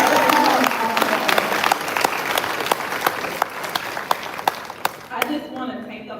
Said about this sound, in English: let's just give a round of applause for ourselves